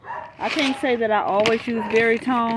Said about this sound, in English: My neighbor has a dog and it's barking.